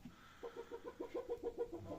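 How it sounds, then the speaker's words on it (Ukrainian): Chickens cluck in a quick, steady series of short calls, fairly close by in a village, with no talking over them. "Вибачте за кури, я у селі живу."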